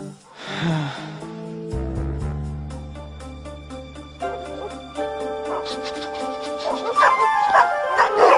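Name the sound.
dogs barking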